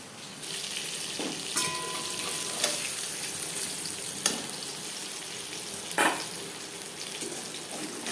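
Pieces of katla fish frying in oil, a steady hiss of sizzling with a few sharp pops and clatters from turning the pieces, close and moderately loud, no speech.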